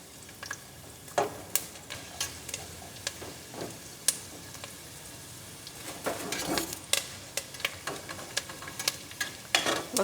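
Raisins toasting lightly in a pan for sweet jaggery rice, with a soft sizzle beneath and scattered sharp scrapes and clinks as a spoon stirs them, the stirring irregular and close.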